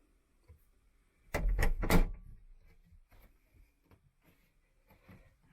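A cabin door aboard a 50-foot yacht bangs and clatters in a quick burst of three or four sharp knocks, followed by softer scattered taps inside the cabin.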